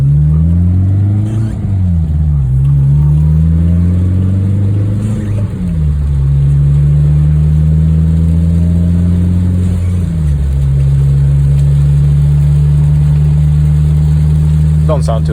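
An Acura RSX with a K24 engine and Invidia N1 catback exhaust drones along in regular driving. The loud, steady exhaust tone rises and dips gently with a few shifts, heard from inside the car.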